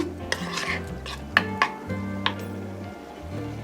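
A spoon scrapes and clinks against a pan while gram flour is stirred into spinach curry, with a few sharp taps over a soft background hum.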